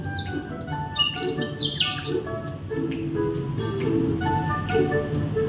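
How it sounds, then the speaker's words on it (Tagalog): Birds chirp and tweet in quick, high calls over a soft, steady background hum, several voices overlapping nearby. "Nakikita na niya ang mga ibon at naririnig na niya ang mga huni nito."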